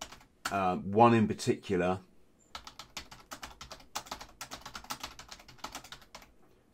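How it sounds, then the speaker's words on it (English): A person speaks briefly, then types quickly and loudly on a computer keyboard nearby. The irregular clacking keystrokes continue in close bursts. "Sorry, folks, if you're hearing me loud typing."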